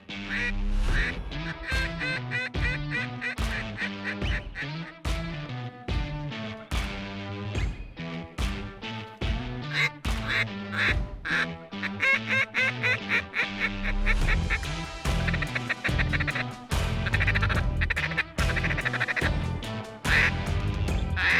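A large flock of waterfowl, likely snow geese, calling continuously during a hunt in Saskatchewan, Canada, with dense overlapping honks and quacks from many birds at a moderate distance, sustained and busy throughout.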